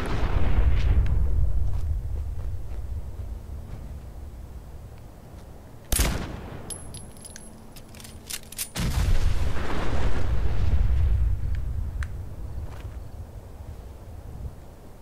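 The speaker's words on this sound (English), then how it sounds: "This is going to be a triple explosion." A string of heavy booming explosions in the video game Fallout 4, deep rumbling blasts with a sharp burst in the middle and another rolling detonation after a short gap, loud and with no talking.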